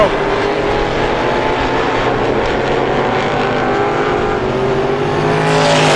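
Race cars roar around the oval at Star Speedway during a Super Feature, a steady, loud engine drone filling the whole stretch with a commentator talking over it.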